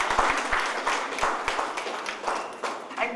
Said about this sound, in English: Give a big clap to them.